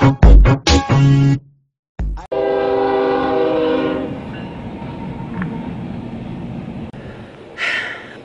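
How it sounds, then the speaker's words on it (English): A train at a railroad crossing sounds several short, loud horn blasts, then a long sustained horn note as it begins moving, followed by a rumbling, rolling drone of railcars close by. "Only I would roll up to the train tracks just as the train is starting."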